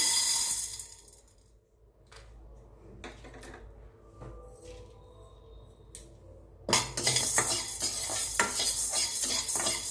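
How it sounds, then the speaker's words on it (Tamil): Urad dal roasting in a pan, with a metal spoon scraping and stirring and the lentils rattling against the pan in bursts, separated by quieter moments, then continuous loud stirring with no talking. "உளுத்தம் பருப்பு நல்லா சூடு ஏறுற வரைக்கும் வறுத்து கொடுப்போம்"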